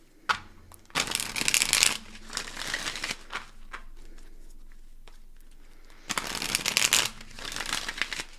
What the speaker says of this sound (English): I want to give it a couple more shuffles.